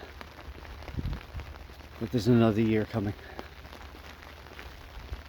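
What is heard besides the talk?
rain falling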